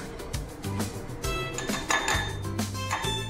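Homemade chole masala is scraped into a dish with repeated close clinks and scrapes of a metal spoon against cookware, busy and fairly loud, with no speech.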